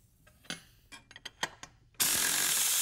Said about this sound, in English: We do that by removing a couple of bolts here.